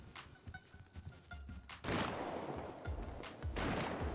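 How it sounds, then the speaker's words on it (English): Gunfire rings out outdoors in the video game GTA 5, scattered shots and thuds at first, then a denser, louder stretch of rapid fire and booms, fairly faint overall. "I don't know why he's shooting outside."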